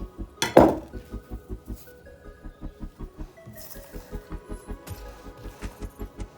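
A spoon stirs dark chocolate cookie dough in a bowl, knocking against the sides in a fast, even rhythm of close, clinking taps, with one louder scrape near the start and a brief pause midway.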